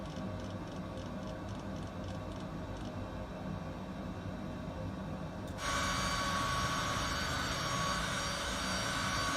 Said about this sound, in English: This jet is so quiet. It's so powerful, but so quiet.